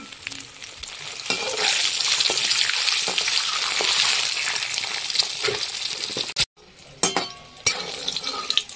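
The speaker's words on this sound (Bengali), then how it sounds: "ডিম দুটো লাল লাল করে ভেজে নিয়েছি" Eggs fry in hot oil with turmeric and salt, giving a loud continuous sizzle as they are stirred in the pan, broken near the end by a brief pause and a few sharp clinks.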